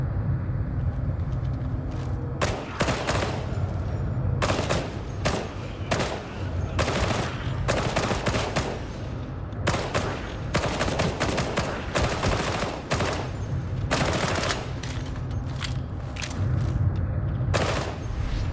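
Repeated bursts of gunfire from a Warhammer Online: Return of Reckoning battle, rapid volleys and single shots crackling over a constant low rumble, loud and close throughout with brief gaps between bursts.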